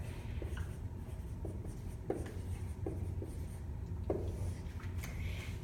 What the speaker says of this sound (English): Let's write it up here.